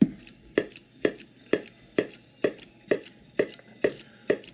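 A pulse generator triggered by a spinning turntable gives sharp, regular clicks about twice per second, evenly spaced over a faint hum, fairly quiet and with no talking.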